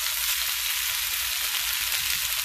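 A quinoa and cluster bean mix cooking in a pan, giving a loud, steady, close sizzle of frying with faint stirring underneath and no voices.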